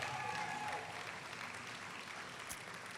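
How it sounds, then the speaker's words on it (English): Audience applause at a ribbon cutting ceremony for a new elementary school building, a steady dense clapping that holds at an even level for about three seconds, with faint voices mixed in. "that deserves a round of applause right there"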